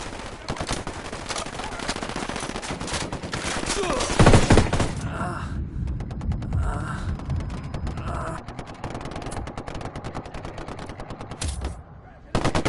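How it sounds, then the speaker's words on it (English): Rapid automatic gunfire in a military shooter video game set in Bolivia, loud sustained bursts of machine-gun fire with brief pauses, a heavy blast near the middle, and shouted radio-style voices mixed in. "Opening fire."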